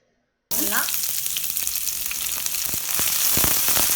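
A loud, steady sizzle of sliced onions frying in hot oil bursts in after a brief silence and continues with crackling pops throughout.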